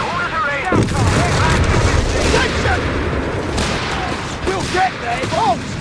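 Bombs explode in a Company of Heroes 3 battle, dense booming blasts rolling over each other for several seconds, with soldiers shouting commands throughout.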